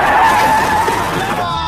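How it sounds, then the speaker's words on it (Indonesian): Cars skid and crash in a chain-reaction pile-up on a busy road: a loud, sustained tire screech blends with screaming voices and a harsh crash-like roar throughout. "Gino sudah membuat seisi jalan raya, macet dan terjadi kecelakaan beruntun"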